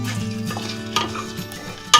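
Fenugreek seeds and desiccated coconut being lightly sautéed in a pan, with busy scraping and stirring over a soft dry crackle, ending in a sharp knock.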